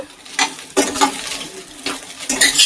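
Fried rice is stirred and tossed in a pan over high flame, giving several separate scraping, clattering bursts with a faint sizzle between them, close by and with no voices.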